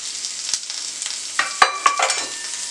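A medium-sized onion goes into hot oil with cumin in a pan, sizzling gently while a utensil scrapes and stirs it in a few quick, sharp strokes near the middle of the short stretch.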